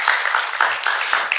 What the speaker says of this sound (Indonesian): Kita boleh beri tepuk tangan bagi Tuhan.